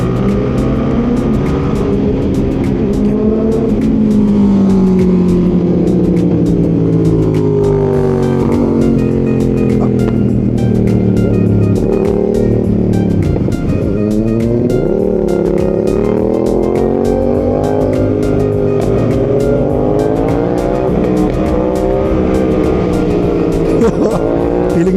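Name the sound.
riding a big bike motorcycle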